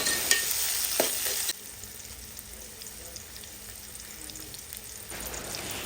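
Chopped tomatoes tipped into a pan of cooked onions, giving a brief clatter and a louder frying sizzle at the start. A steady, quieter sizzle and stirring noises follow, and the sizzle rises again near the end.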